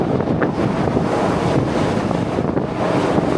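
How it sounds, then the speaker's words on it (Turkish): Atlantic swell waves surge around a boat near Gibraltar while strong wind buffets the microphone, a loud, constant roaring wash with no talking. "Bu artık Cebeli Tarık'a girmeden önce son yediğimiz dalgalar."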